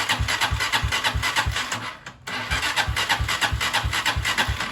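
A motorcycle engine cranks with rapid rhythmic pulses, cuts out briefly, then cranks again in the same quick chugging rhythm, close and fairly loud.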